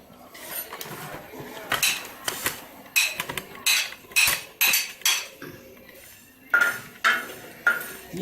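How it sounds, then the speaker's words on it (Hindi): A metal spoon clinks and scrapes steadily against a pan while fennel seeds and sugar dry-roast over low heat, giving a run of sharp, close clatters at an irregular stirring rhythm with no talk. "ये मैं आस्ता आस्ता चम्मच चलाते जाइए, हल्की सी आंच के ऊपर आपने ये गर्म करनी है"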